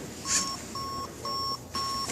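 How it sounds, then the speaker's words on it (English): A small robot gives four evenly spaced electronic beeps when it hits a dark spot, each beep a steady two-tone chirp lasting about a third of a second. The beeps are clear and close over a faint room hum. "when it hits a dark spot, go back up and beep at the same time"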